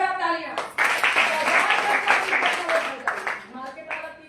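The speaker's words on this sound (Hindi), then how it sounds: "जोड़ा तालियां" An indoor audience at a talk claps together in a short, lively burst between bits of speech from a voice.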